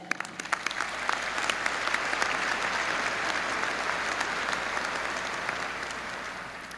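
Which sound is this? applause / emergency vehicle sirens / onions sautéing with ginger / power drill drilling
applause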